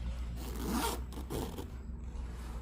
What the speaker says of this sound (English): move the slider all the way to the end.